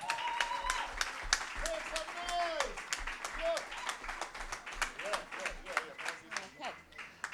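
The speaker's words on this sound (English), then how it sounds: "So I want a big clap for Sue," An audience at a gig at The Amersham Arms claps for co-founder Sue Lukes, a continuous patter of applause mixed with voices talking over it.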